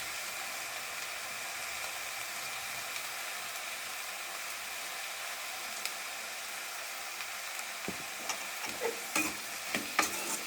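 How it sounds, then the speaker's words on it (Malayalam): Eggplant theeyal curry with turmeric powder and curry leaves sizzles softly in a pan under a steady hiss, with a spoon scraping and clinking in several short strokes toward the end. "ഇളക്കാം. നന്നായി ഇളക്കുക."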